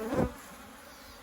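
Angry honey bees buzz around a hive holding a newly introduced Black Mountain F1 Buckfast queen on a sunny day, one loud close buzz sweeping past before fading to a faint drone.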